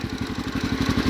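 A 1973 Gravely 814 tractor engine runs steadily up close, a rough, pulsing low chug with a fast even beat and clattery overtones, no voices.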